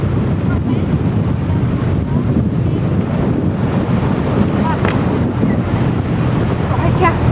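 A small boat heads out of Hurghada port toward coral reefs, with heavy steady wind buffeting the microphone over the rush of waves and hull wash, loud and continuous.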